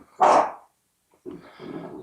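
A dog in a TV show gives one loud, sharp bark, falls silent, then lets out a lower, rough growl that lasts to the end.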